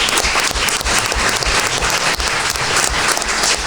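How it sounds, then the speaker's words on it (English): Audience applause at an artist talk, loud and close, a dense continuous wash of many clapping hands with a few sharper individual claps standing out, and no speech on top. "So we can just give them an applause for everything."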